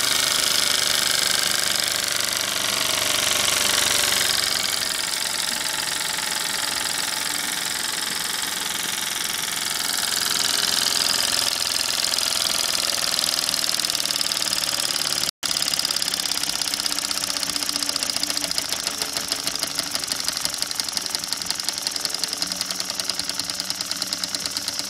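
Model steam engine running under pressure, a steady mechanical chugging with fast repetitive knocking and a hissing wash over it, fairly loud and close, with the beat quickening in the second half.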